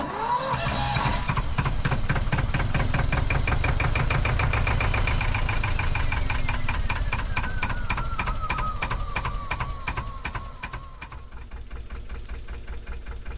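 A boat's noisy engine runs steadily while motoring, a close, continuous knocking diesel-like chug with a fast regular beat that holds loud throughout, easing slightly near the end.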